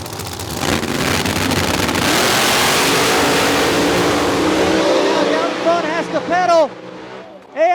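Small tire drag race cars at Beech Bend Raceway, including a John Wick Camaro, roaring loudly down the strip in a sustained, heavy engine drone that fades toward the end as revs drop, under an announcer's continuous commentary.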